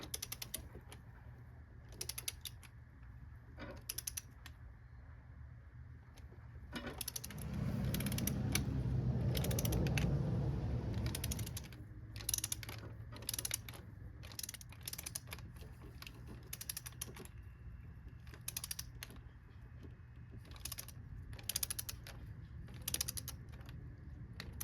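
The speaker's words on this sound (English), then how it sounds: "now I'm going to torque them down in that specified pattern" Ratchet clicking in short bursts while torquing valve cover bolts on a Toyota 3.4L 5VZ-FE V6 engine, close and fairly quiet, with a brief louder mechanical rumble partway through.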